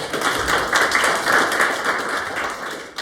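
Audience clapping in a Korean corporate training lecture, a steady dense wash of hands sustained for about three seconds, moderately loud and close, with no talk over it.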